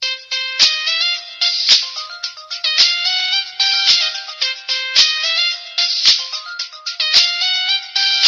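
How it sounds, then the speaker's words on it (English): A phone ringtone plays a repeating bright melodic chime pattern in loud, close cycles of roughly one second, continuing steadily for several rounds. "Phone rings, no one's on the other side."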